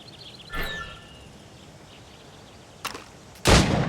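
Shots at targets in the game Assassin's Creed Rogue ring out as a few separate sharp cracks, one early and two later, the last one loudest, with quiet ambience and faint bird-like tones between them.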